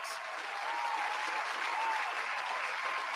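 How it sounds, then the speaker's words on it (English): A round of applause on a sports talk show, a steady, fairly faint wash of clapping that holds evenly throughout without voices over it. "Round of applause to these guys."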